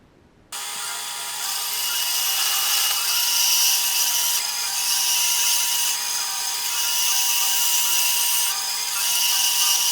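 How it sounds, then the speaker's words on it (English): A grinder works down freshly cut 3/8-inch steel plate in a metal shop, starting abruptly and holding a loud, steady high-pitched whine and abrasive hiss with slight surges for the rest of the clip. "and I'll grind that all down"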